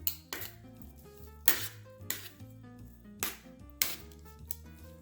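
Seasoned chicken pieces tossed with tongs in a pan, salt, ginger, garlic powder and black pepper on them, giving a series of bright metallic clinks and clacks at an uneven rhythm, close and fairly crisp, with no talking.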